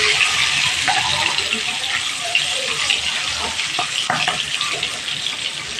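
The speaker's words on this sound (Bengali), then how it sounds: "ভালোভাবে ডিমটা গ্যাসের ফ্লেমটা মিডিয়ামে রেখে ডিমটা একটু কড়া করে ভেজে নেব।" Eggs fry in oil in a pan over a medium gas flame, giving a steady close sizzle and hiss that runs the whole time with occasional small pops and no talking.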